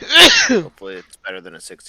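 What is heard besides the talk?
sneeze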